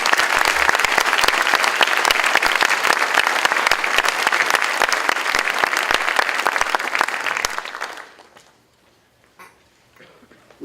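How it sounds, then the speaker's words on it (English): Sustained applause from an audience honouring student award winners at a 2015 academic awards ceremony, dense steady clapping that fades out after about eight seconds, leaving near silence. "Let's give all these award winners another round of applause."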